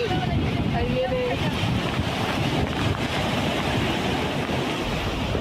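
Rough sea surge from the Peruvian coast washing up over a boat slipway, a dense continuous rumble of churning water mixed with wind buffeting the microphone, loud and unbroken.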